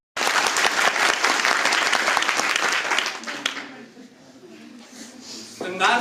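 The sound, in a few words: audience applause at poetry recital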